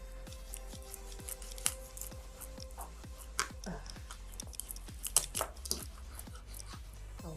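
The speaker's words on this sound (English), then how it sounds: "I'm just going to go ahead to cut up my fish into smaller slices or smaller chunks" A knife chops croaker fish into smaller chunks in a regular series of close, crisp taps and cuts against a board, several per second with light crunches between.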